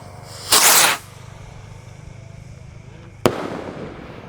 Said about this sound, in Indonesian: di sini ada Gold Dragon Rocket Roman Candle guys. Kita nyalakan guys.